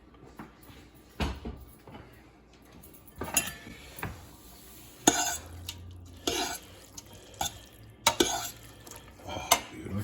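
Pasta being tossed and stirred with tomato sauce in a pan for a wagyu bolognese: irregular scraping, clinks and wet stirring knocks of utensil against the pan, fairly quiet with sharper clatters every second or so.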